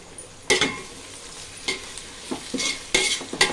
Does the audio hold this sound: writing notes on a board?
no